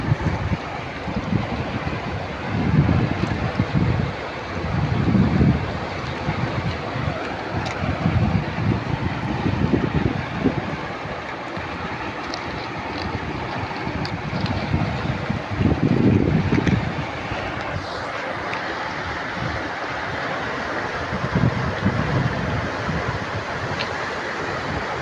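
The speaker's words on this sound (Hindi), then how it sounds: "बहुत ही तेज़ सैलाब आ चुका है" A fast flash-flood torrent rushes past, carrying stones downstream, making a continuous loud roar of churning water with surging pulses over a long stretch.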